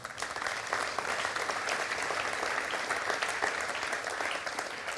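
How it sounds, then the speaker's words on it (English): Audience applause at a UK property investment seminar on purchase lease options and student HMOs: a dense, steady round of clapping that stays even and sustained throughout, with no voices over it. "Can we have a round of applause for that, by the way?"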